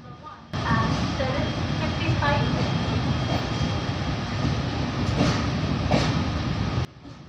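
An express train pulls out of Mumbai LTT station, heard from on board as a steady, loud rolling rumble that holds for several seconds before cutting off.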